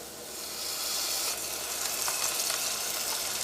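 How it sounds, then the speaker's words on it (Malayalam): Ginger garlic paste fries in hot oil with turmeric for a Kerala-style mutton curry, a loud, dense, continuous sizzle that swells after the first half second and holds steady, with faint stirring. "ഇനി നമുക്ക് ജിഞ്ചർ ഗാർലിക് പേസ്റ്റും എണ്ണയിലിട്ട് പതുക്കെ ഒന്ന് മുരിച്ചെടുക്കുക."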